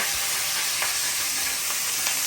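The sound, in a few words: fish frying in oil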